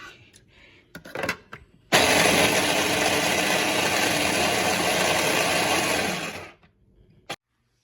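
An electric mixer grinder whirs loudly and steadily for about four and a half seconds while grinding onions and spices for mutter paneer, framed by a few clicks and knocks before it starts and after it spins down.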